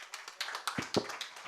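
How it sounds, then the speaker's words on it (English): A small scattered round of applause at a ceremony as a token of appreciation is presented, a handful of separate claps spread irregularly and fairly faint, with no talking. "Can we have a round of applause"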